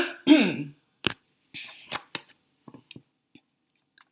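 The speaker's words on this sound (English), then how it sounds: "excuse me, I have to clear my throat." A single throat clearing rings out up close, followed by quiet clicks, small mouth noises and faint shuffling.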